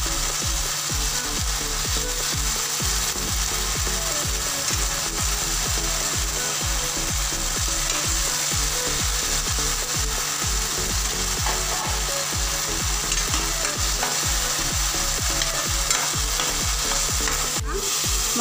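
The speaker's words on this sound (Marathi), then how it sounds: "मशरूम छान फ्राय झालेले आहेत." Mushrooms coated with cornflour fry in a pan with a loud, steady sizzle, broken by regular scraping stirring strokes throughout and no voices.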